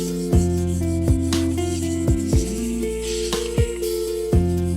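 Rhythmic, steady rasping strokes of 400-grit sandpaper dry sanding BMW M5 car paint, close and fairly loud, with regular scraping pulses roughly every half second.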